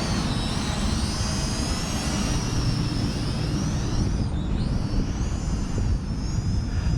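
A small Snaptain SP660 toy drone flies outdoors, giving a steady high-pitched propeller whine with shifting pitch over a continuous rush of wind noise, fairly loud and without talk.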